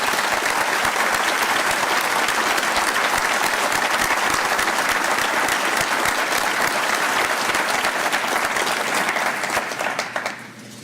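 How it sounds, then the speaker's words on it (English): Sustained loud applause from a large crowd at a district attorney swearing-in ceremony, steady clapping throughout that fades slightly at the very end. "give a round of applause and appreciation for all of those that serve us in that capacity."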